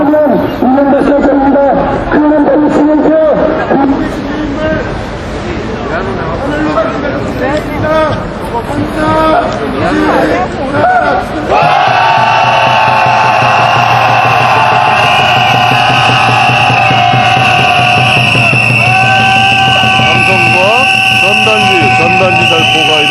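Street march crowd at a protest calling for a former president's arrest over election fraud, with dense shouting and chanting babble through the first half, then a steady loud amplified tone and drone dominating after, near and continuous.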